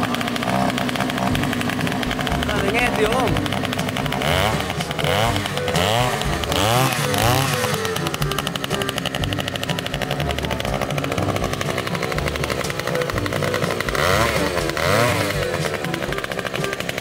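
An Oshima 2PS gasoline earth auger engine runs loud and close with a raspy two-stroke buzz that rises and falls with throttle revs. Faint voices are partly buried under the engine.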